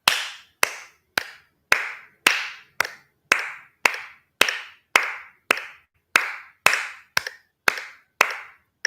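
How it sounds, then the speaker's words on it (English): Hands clap in steady time with a metronome click, roughly fifteen bright, close claps evenly spaced, the click nearly buried under each one. "my clap was happening at the very same time"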